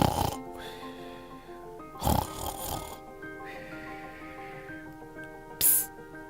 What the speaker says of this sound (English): Soon, I hear snoring.